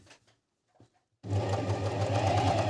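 A Family 8000w sewing machine is stitching. After a mostly quiet start with a few faint sounds, the motor kicks in and runs as a loud, steady whirring hum for the rest of the clip.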